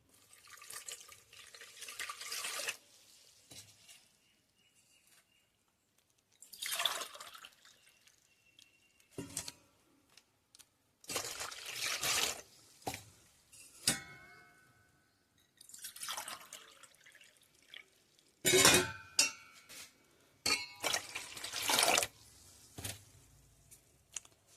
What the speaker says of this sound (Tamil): இந்த பெரிய டம்ளரில் 3 டம்ளர் தண்ணி ஊற்றிக்கலாம்.